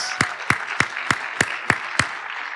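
Audience at a school board meeting applauds Ethan Waters, newly named to a post at James Wood High School, heard as seven evenly spaced sharp claps over a soft steady background, fairly close and moderately loud.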